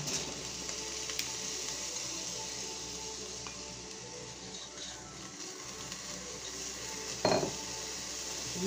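Two onions fry in a shallow film of oil, a faint, steady sizzle close by, with one brief utensil knock near the end and no talking.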